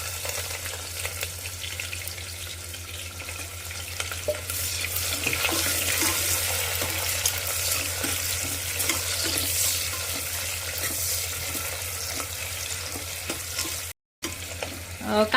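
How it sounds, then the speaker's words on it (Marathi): Chopped onion with a cinnamon stick and bay leaf sizzles steadily in hot oil for prawn pulao, a dense continuous hiss broken by soft stirring taps, close and loud throughout, with one brief dropout near the end and no voices. "कांदा थोडासा लाल आणि सॉफ्ट होईपर्यंत भाजून घ्यायचा आहे"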